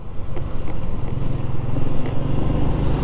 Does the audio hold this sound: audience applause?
no